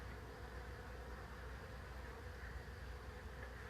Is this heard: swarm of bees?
yes